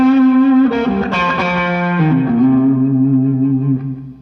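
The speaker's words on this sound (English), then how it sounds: "Some nice drive-in lead sounds, and we'll use our Evans Super Echo" An overdriven electric guitar plays a sustained lead line through an Evans Super Echo, loud and close, with several held notes sliding and shifting and a lingering echo tail as the phrase fades.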